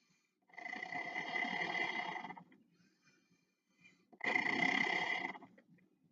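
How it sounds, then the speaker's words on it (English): Two long, forceful exhalations blown through a breathing trainer, each a breathy, reedy whoosh lasting about two seconds with a quiet gap between, close to the mic. "deep breath, then blow out"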